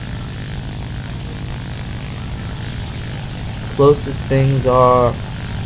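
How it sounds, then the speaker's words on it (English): A propeller plane engine in the War Thunder video game drones steadily and loudly throughout, a constant buzzing hum, with someone talking briefly near the end. "The plane is fast. It feels pretty fast."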